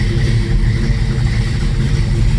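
A 1967 Chevelle Malibu V8 idles steadily up close, a loud continuous low rumble with an even throb and no one speaking.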